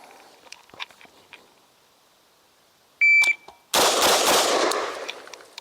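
Shot timer beep followed by an AR-15 rifle firing three rapid shots at a range; a sharp electronic tone, then loud, close, quickly repeated bangs with lingering echo.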